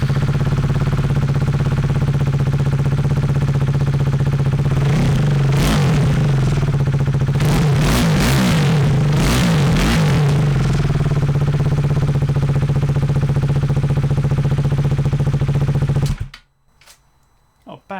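A KTM Duke motorcycle with an Akrapovic slip-on exhaust idles with a steady low rumble, then revs sharply several times in quick bursts before the engine cuts off abruptly near the end.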